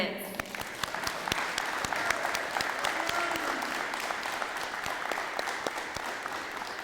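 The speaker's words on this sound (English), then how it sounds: "Let's keep the applause going" Steady applause from a crowd, dense clapping filling the whole stretch without pause, fairly close and even in loudness.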